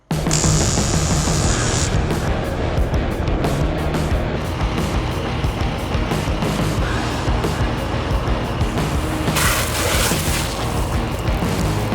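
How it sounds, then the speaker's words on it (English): A flamethrower blasts flame onto a shirt during a fire-resistant clothing test, a loud continuous roaring rush that holds steady for the whole stretch, with brief hissing surges. "Right where the flamethrower hit it is really where we have the charred clothing at."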